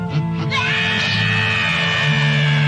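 Krillin from the anime Dragon Ball screams as Frieza attacks him, in the Spanish dub: one long, loud, strained scream held over steady background music.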